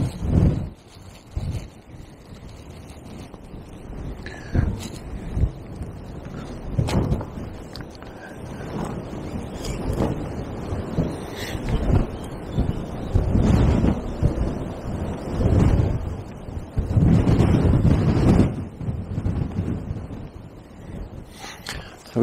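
Gusting wind buffets the microphone beside a small river in spate on a blustery day of fishing, a steady low roar swelling and easing in repeated surges with no talk.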